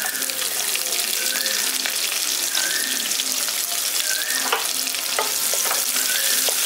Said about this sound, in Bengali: এবার পেঁয়াজটাকেও ভেজে নিচ্ছি।